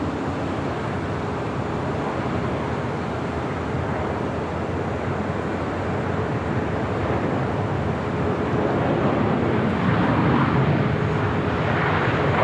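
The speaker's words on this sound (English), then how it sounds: "That is United Airlines flight 1855 heading to Houston, the 737 MAX 9." A United Airlines Boeing 737 MAX 9 jet at LAX, a broad, steady roar of jet engines that swells slightly louder toward the end, heard from a distance with wind-like rushing and no voices.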